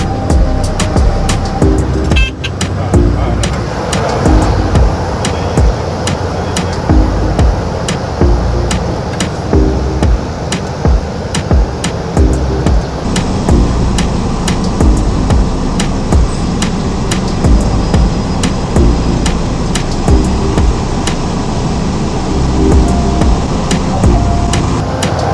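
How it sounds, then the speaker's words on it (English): A small aircraft lands on the short runway at St Barts airport, heard from inside the cabin as a loud, steady engine and wind roar with rattling and clicking throughout. "Today we were landing down the hill and I held on tight to enjoy the ride."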